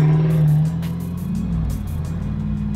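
A car engine rumbles close by, with a deep tone that shifts as the revs change and then settles into a steady low drone.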